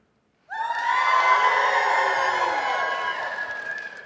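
An audience cheers and shouts for a favorite fast-food chain in a crowd poll. After half a second of silence, a loud, sustained roar of whoops and high voices bursts in and carries on to the end.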